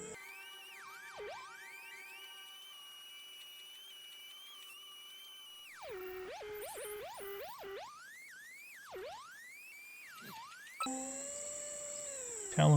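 Mining drill in the video game Empyrion Galactic Survival, a steady whining tone with repeated pitch dips and sweeps, then a harsher burst near the end, moderately loud and with no talk over it.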